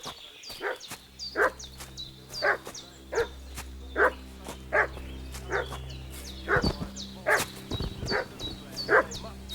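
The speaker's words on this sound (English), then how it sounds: "That dog making such a fuss about?" A dog in the video game Kingdom Come: Deliverance II barks repeatedly at a steady pace, loud and fairly close, over a low constant hum of the game's ambience.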